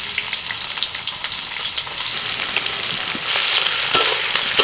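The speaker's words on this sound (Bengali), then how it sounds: "এবার কড়ায় তেল দিয়েছি, তেলের মধ্যে এলাচ, দারচিনি, লবঙ্গ। এবার দিচ্ছি পেঁয়াজ কুচি" Chopped onion dropped into hot oil with cardamom, cinnamon and cloves in a kadai, a steady close sizzle with light stirring that grows slightly louder near the end, no voices.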